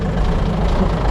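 A classic Volvo F7 lorry's diesel engine idles loud and close, a dense steady low rumble with no voices.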